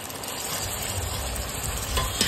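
Chopped tomatoes go into a pan of fully browned onion for cheese egg bhurji, giving a steady close sizzle and frying hiss with light stirring scrapes, with no talking.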